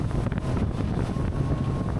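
A Sea Ray 250 SDX outboard boat runs through waves, giving a continuous roar of engine, rushing water and heavy wind buffeting against the microphone, loud and close throughout.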